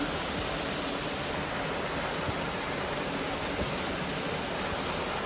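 Water pouring at a forest waterfall, a loud, unbroken roar of rushing water close by that fills the whole stretch without pause.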